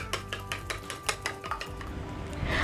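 Eggs with a little salt are whisked in a bowl, giving quick, rhythmic clinks and taps of utensil on bowl, close and fairly soft, with no talking.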